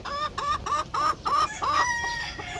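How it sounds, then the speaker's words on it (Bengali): A hen cackles after laying an egg, a close series of rhythmic, repeated loud clucks in quick bursts, one after another, with no talking. "বুঝতে পারলেন শব্দ করতেছে ডিম পাড়া"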